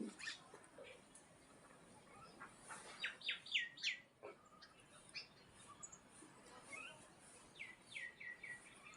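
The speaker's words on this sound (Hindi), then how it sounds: "ये चल रहा है चिड़ियाओं का आक्रमण आज" Many small birds chirping and tweeting in scattered, overlapping calls while feeding in a hill village in Uttarakhand; the calls are faint and distant over a quiet background, with a brief soft voice.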